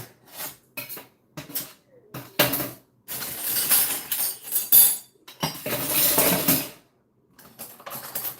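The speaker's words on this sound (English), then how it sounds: "I soaked all these knives. The big knives are the last thing to do." Kitchen knives and cutlery washed in a sink, with bursts of running water and scattered clinks and clatters of metal coming in irregular bunches, fairly close and moderately loud, with quiet gaps between.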